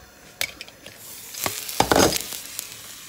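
Water dripping onto a hot frying pan used for sugar-free pancakes, giving a few sharp crackles followed by a louder burst of sizzling, close by with no talk.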